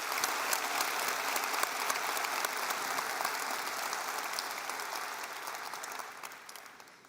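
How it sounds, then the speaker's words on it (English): Audience applause for volunteers at a university convocation ceremony, dense steady clapping from a large crowd that gradually fades toward the end. "So can we give a big round of applause to our volunteers?"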